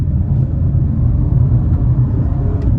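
A 2022 Toyota Camry LE accelerating in sport mode gives a loud, steady low engine and road rumble that holds evenly from start to finish, with no talking over it.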